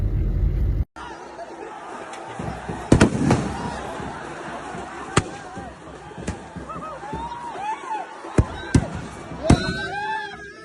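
Fireworks bursting at a fireworks display in Areekode during a football celebration, sharp loud bangs and crackles scattered irregularly over about ten seconds, with crowd voices and talk running underneath.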